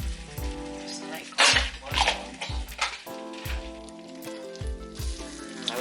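Butter melts in a hot pan at home, giving a soft, steady sizzle. A rhythmic low thumping and a brief louder burst of hiss and clatter sit close by.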